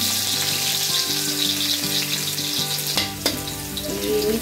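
Garlic sautéing in a little oil for Filipino igadong baboy gives a steady, close sizzle that runs the whole time, with a few soft clinks and stirring scrapes near the end.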